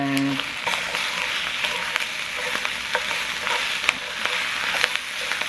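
Bibimbap being mixed in a hot skillet, a constant loud sizzle with repeated scraping and clattering strokes of the utensil against the pan.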